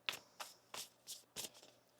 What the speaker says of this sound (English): Let's get one more shuffle here for you.